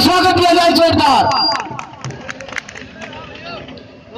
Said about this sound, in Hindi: एक बार हमारे पूर्व अध्यक्ष सुशील कुमार जी को तालियों की गड़गड़ाहट से स्वागत किया जाए जोरदार।